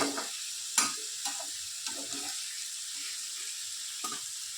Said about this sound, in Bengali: তো কম স্টিমে আমরা ভালো করে কষিয়ে নেব